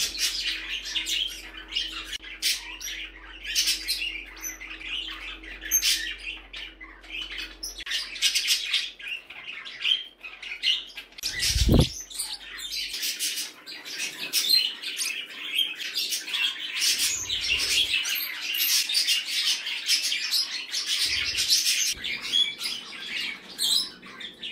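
Several pet birds in a bird room chirp, tweet and squawk nearly continuously, bright and close, with a brief low thump partway through.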